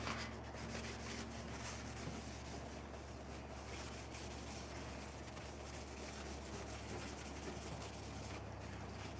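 A clean rag rubs and wipes across a 2010 Toyota Tacoma transmission part, a faint, steady scrubbing swish that continues without pause over a low droning hum.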